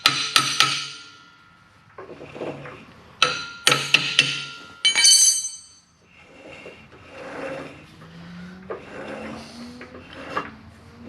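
A lathe part on a JFMT 530 x 2000 lathe under repair is tapped back out: sharp metallic taps and clinks come in small clusters, separated by quieter scraping and rubbing in between.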